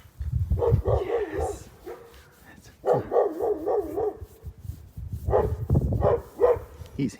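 Dogs bark in repeated clusters close by, several quick barks at a time, with a pause between bursts.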